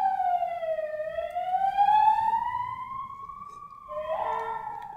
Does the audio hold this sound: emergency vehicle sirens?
yes